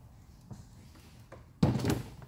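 An Engel cooler is set into a storage compartment on a custom Gheenoe LT25 Raptor boat, with a few faint taps and then one solid, hollow thunk as it drops into place, close and alone.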